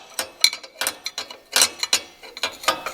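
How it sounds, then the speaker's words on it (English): Quick ratcheting clicks of a spanner wrench being worked in short bursts, crisp, close and loud with no talking, an uneven mechanical rhythm. "what I do is I'll use the spanner wrench"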